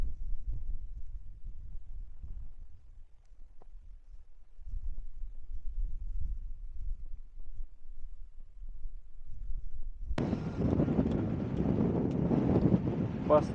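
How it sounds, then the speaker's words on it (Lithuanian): Strong wind buffets the microphone on a slippery mountain trail, a low rumble for the first ten seconds that bursts into a loud, broad roaring gust at the end. "Labai didelis vėjas šiaip."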